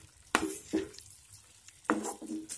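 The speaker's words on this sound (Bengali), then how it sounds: "মিশিয়ে নেব খুব ভালোভাবে।" Chicken vorta being mixed with small pieces of chopped boiled egg and chopped leafy herbs, heard as a few quiet, separate spoon scrapes and soft mashing strokes against the bowl, close by with no talking.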